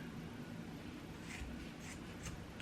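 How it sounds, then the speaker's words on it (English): Scissors snip through a looped gift-wrap ribbon, giving a few faint, crisp cuts spaced about half a second apart over a low, steady room rumble. "And now we cut the loop"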